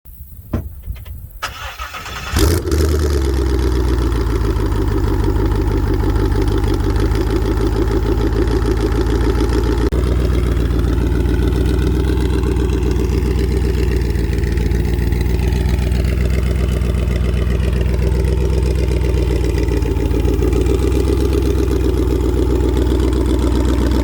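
After some quiet handling noises, a 2015 twin-turbo Mustang engine with hood exit exhaust cranks and fires up loudly, then settles into a deep, steady, rumbling idle that continues throughout.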